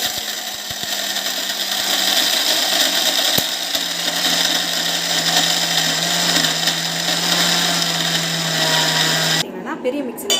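A mixer grinder whirs loud and steady as it grinds protein laddu ingredients into powder, a continuous motor drone with a few clicks, cutting off abruptly near the end.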